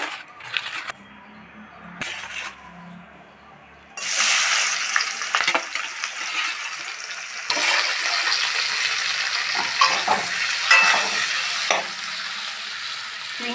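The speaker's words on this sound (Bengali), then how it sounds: "দিয়েছি কড়াইতে চিংড়ি মাছ সর্ষের তেলে বানাবেন" Prawns frying in mustard oil in a wok, a steady loud sizzle with scraping stirs, starting with a few clattering pans and then rising into continuous frying noise, no voices.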